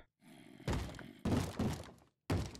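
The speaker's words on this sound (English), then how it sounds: "You're breaking my door so quick." A zombie bashes at a wooden door in Minecraft, giving three heavy thunking hits with brief pauses between, loud and close.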